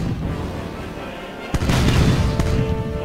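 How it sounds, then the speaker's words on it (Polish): Ship cannons firing during a naval battle in the Age of Pirates: Caribbean Tales video game, a loud booming blast midway followed by a second report over a constant rumbling battle background. "wszystkie działa mi wybuchły"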